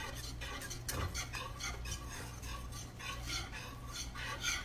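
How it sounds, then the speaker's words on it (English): A whisk clinks and scrapes rhythmically against a pot of oyster stew with cream on medium-high heat, quick repeated metallic ticks over a low background hum, close and fairly faint. "you have to whisk it constantly"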